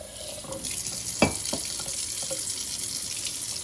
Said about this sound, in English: Gonna fill my teapot with water.